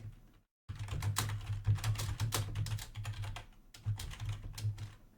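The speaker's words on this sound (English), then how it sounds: "So here I'm gonna type in" Fingers type on a computer keyboard in rapid, close clicking bursts with a couple of brief pauses, starting after a short silence.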